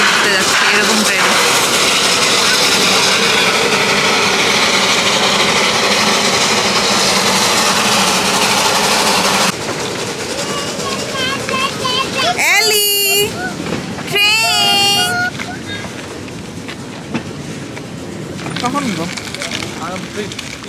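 A coal-fired steam train running at Roaring Camp rumbles steadily and loud for about ten seconds, then drops back as several sharp high squeals and whistle-like tones cut through, with voices talking over the rail noise.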